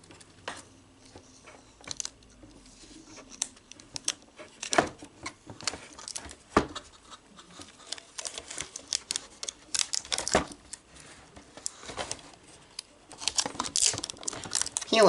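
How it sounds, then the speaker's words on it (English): Stickers are peeled and crinkled off an RTX 5050 graphics card, close up, with bursts of crackling plastic, tearing and tapping handling noises in irregular clusters. "Now let's peel off those damn stickers."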